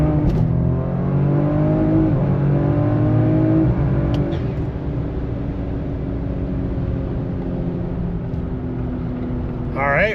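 A Ford Explorer ST with a newly fitted Gulfcoast carbon fiber driveshaft accelerates on the highway, its engine pulling up steadily through a loud, continuous roar of road and wind noise heard from inside the cabin.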